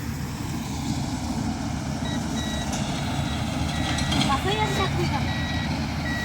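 A vehicle at a paddy harvest reverses with repeated high electronic beeps over a steady loud engine rumble, as voices talk in the background.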